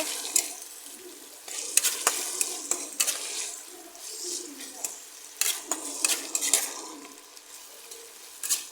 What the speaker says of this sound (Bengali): নতুন কড়া কেনা হয়েছে সেই কড়ায় রান্না করা হচ্ছে